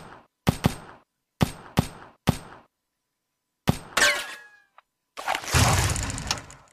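Handgun shots in the video game WET ring out as sharp, close single cracks in quick pairs with pauses between them. A louder shot with a ringing tail follows, then a burst of noisy action.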